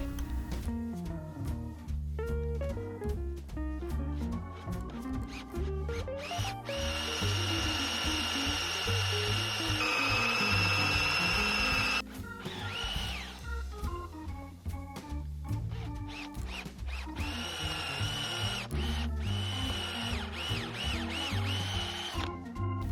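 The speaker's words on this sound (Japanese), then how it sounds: "できるだけ深めに穴を開けたいので、ドリルの先をちょっと延長します。" A power drill with an extended bit bores a deep hole into a log of firewood, whirring and grinding in uneven bursts that rise and fall as it chews into the wood, close and alone.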